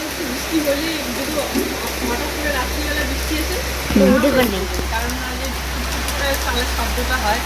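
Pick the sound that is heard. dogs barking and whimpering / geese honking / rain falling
rain falling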